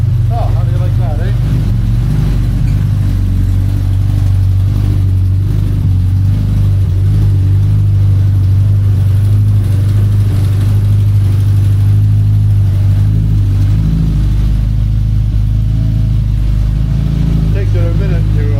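A 1982 VW Westfalia van fitted with a swapped-in Subaru 2.5L engine runs steadily with a throaty low rumble, loud and close, its idle holding rough and even throughout.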